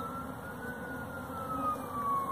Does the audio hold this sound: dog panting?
no